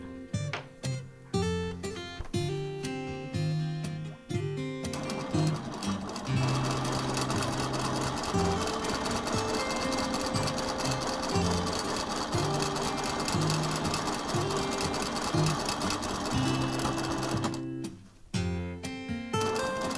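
A sewing machine stitches quilting arcs across a mandala quilt, running as a steady, loud continuous drone for most of the stretch, with brief pauses and restarts near the beginning and end.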